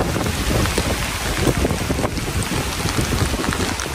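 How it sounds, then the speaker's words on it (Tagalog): Strong wind roars steadily and loudly across the microphone during a flood in rainy weather, a dense, unbroken gusting rush with no voices. "Grabe yung hangin."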